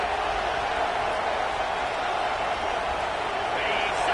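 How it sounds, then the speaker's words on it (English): A stadium crowd at a UGA vs Ohio State football game, roaring in a dense, constant wash of noise from start to finish, with voices in the mix. "the crowd coming to life here, trying to help this defense down in the red zone"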